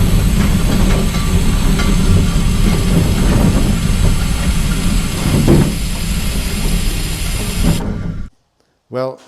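A rare 70-year-old railway section car is pushed along rails, giving a steady rolling rumble with faint track clatter that continues for several seconds before stopping abruptly, followed by a brief voice.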